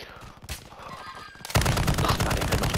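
Gunfire in Call of Duty: Warzone: a few scattered shots, then a sudden loud burst of rapid continuous automatic fire, close and dense, with no voices.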